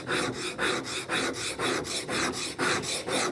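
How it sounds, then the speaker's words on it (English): A chisel is pushed back and forth across a sharpening stone in steady, close rasping strokes, about two per second, repeating evenly with no talk. "make sure that you're keeping the chisel nice and straight, and use that backwards and forwards"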